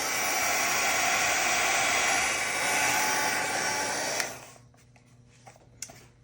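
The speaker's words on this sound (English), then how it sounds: "So I'm going to pull out my handy dandy little heat gun and let's give it a" A handheld heat gun blows a loud, steady whir over watercolor paint for about four seconds, then cuts off, leaving quiet room sound and a few faint clicks.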